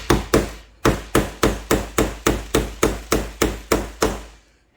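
The hammer head of a Greenever multi tool axe strikes in a fast, steady series of about thirteen sharp, loud knocks after a brief double hit, each ringing briefly before the next, with no talking.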